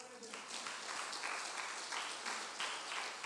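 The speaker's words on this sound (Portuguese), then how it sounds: "As palmas para o Senhor." A church congregation claps together in a dense, continuous burst of applause during a sermon, with a brief trace of a voice at the very start.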